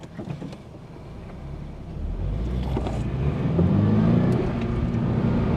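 A Toyota GR86 drives on after a hard stop, its engine and tyre roar rising steadily and staying loud and close from inside the car, with no talking.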